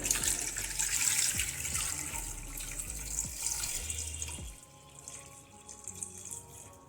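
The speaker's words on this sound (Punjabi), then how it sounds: "ਹੁਣ ਅਸੀਂ ਇਹਦੇ ਵਿੱਚ ਪਾਣੀ ਪਾ ਦੇਵਾਂਗੇ" Water runs and splashes into a metal pressure cooker holding taro root for several seconds, the gushing stream easing off toward the end.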